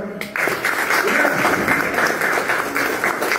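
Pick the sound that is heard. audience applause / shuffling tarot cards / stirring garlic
audience applause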